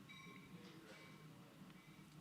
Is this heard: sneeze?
no